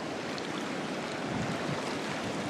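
Floodwater of a river in Steamboat Springs rushes over its banks onto a pathway, a steady, broad roar of turbulent water close by with no talk.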